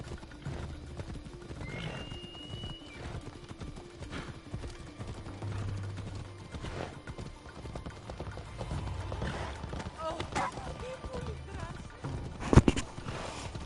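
Horse hooves clip-clop in a video game, a quiet, steady walking rhythm under a background of low game ambience, with a brief whinny and a sharp knock near the end.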